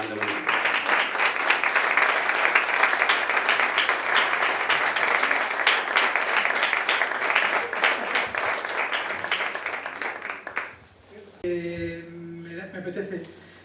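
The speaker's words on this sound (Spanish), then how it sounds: "Así que recibimos con un fuerte aplauso a Manolo Fernández Boniquito." Loud, sustained audience applause fills a hall at a piano and violin concert for about ten seconds, then fades as a voice begins speaking.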